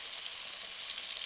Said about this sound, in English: My wife is cooking me a steak for dinner.